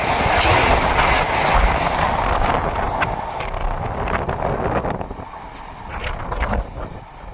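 The Shatabdi Express passenger train rushes along the tracks nearby, a loud roar with rattling wagons and wind buffeting the microphone, easing slightly toward the end.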